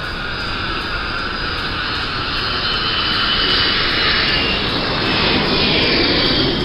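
A flight-simulator aircraft flyover, likely an Airbus A319, is a loud, steady jet-engine roar that swells slightly as it passes, continuous and close, with no talking.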